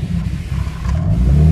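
A stupidly loud Subaru Forester engine revs hard close by, a rising roar that builds steadily through the short burst with no one speaking.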